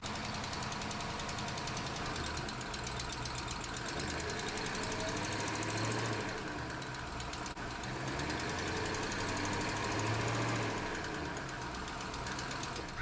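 A 2012 Jeep Grand Cherokee with a 5.7 HEMI V8 idles and revs with a bad motor mount, a close, steady rumbling engine with knocking vibration and two mild swells in revs.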